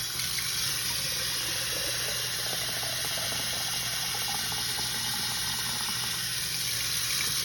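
Water streams and splashes steadily over trays of micro-green sprouts, a constant close rushing pour with no voices.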